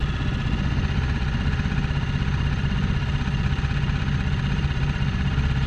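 Small outboard motor on an inflatable dinghy running just above idle while dragging an anchor through coarse sand and pea gravel, a steady low rumbling drone with constant vibration throughout, close and fairly loud, no voices.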